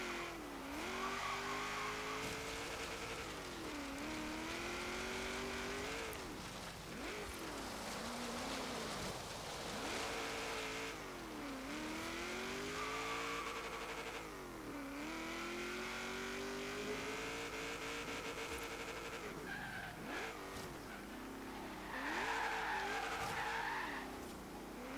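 A 1945 Jeep Willys MB in Forza Horizon 3 drones continuously, its engine rising and falling through repeated revs as tires skid and squeal, loud and up close with no talking.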